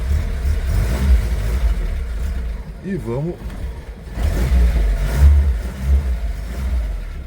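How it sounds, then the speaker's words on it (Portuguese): A 1960 Jeep engine rumbles low and rough as it pulls away in first gear, revving unevenly up close while someone speaks briefly over it. "E agora a gente vai sair com o Jeep e manobrar com uma mão só."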